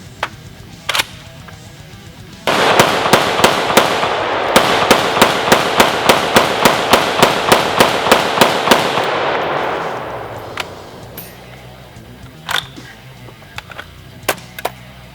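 A Century C308 rifle fires a long rapid string of loud, evenly spaced shots during a 1000-round torture test, close and sharp with a ringing tail, followed by a few isolated shots and clicks of handling.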